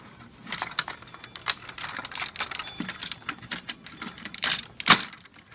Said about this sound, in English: so you hear the loud clicking noises